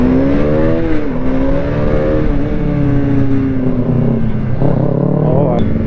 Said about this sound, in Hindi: हाई आरपीएम पे जाती ना सुमित भाई की बाइक